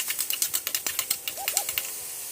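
Minced pork stir-fried for Thai basil pork with oyster sauce and a little sugar, the spatula clacking in quick, steady scrapes against the pan over a soft sizzle, close and fairly quiet, with no talking.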